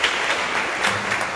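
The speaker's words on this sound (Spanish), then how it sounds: "vamos a dar un fuerte aplauso" Church congregation giving a strong round of applause during a service, a brief, dense, loud burst of clapping filling the space evenly.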